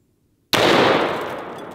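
A Barrett MRAD sniper rifle fires a single .338 Lapua Magnum round, with a sudden loud blast breaking the silence, then a broad roaring decay that fades slowly, heard at some distance.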